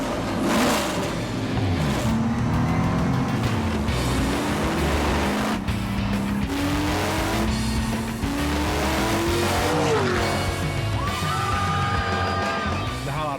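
Race cars roar around the Daytona circuit, engines rising and falling in pitch as they pass, with tire squeals and a continuous loud, busy mechanical din throughout.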